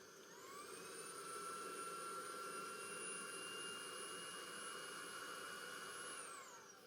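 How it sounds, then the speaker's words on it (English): A small handheld vacuum seals a packing bag: its motor whines up to a high, steady pitch, holds there for several seconds, then winds back down, loud and close. "So I'm gonna go get my small little vacuum and then vacuum seal this up."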